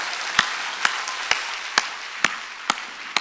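A church congregation at a Sunday worship service claps in sharp, evenly spaced single beats, about seven strikes over a few seconds, over a soft hiss of room noise.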